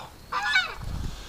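A single Canada goose gives a short nasal honk in a pen, clear and fairly near, followed by a lower grunting note, with quiet background.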